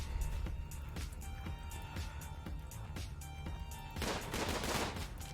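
Colonists fire their guns during a RimWorld fight: a quiet run of sharp, evenly spaced shots, then a denser, louder burst of gunfire near the end.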